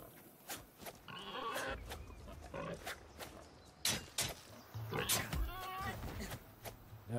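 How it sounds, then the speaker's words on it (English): Pigs squeal and grunt in the video game Nightingale, a few sharp bursts mixed with combat noises under a player's chatter, fairly quiet overall. "There's another pig. I'm going straight at him."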